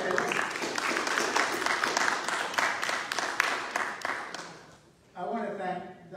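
A church congregation claps for musicians during a worship service, dense clapping that gradually fades out before a voice begins speaking.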